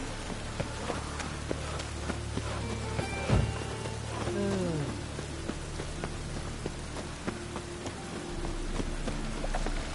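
Steady rain pours down in a rainy outdoor scene of the video game The Witcher 3: Wild Hunt, a dense continuous patter throughout, with a brief low thump and a short faint voice-like sound partway through.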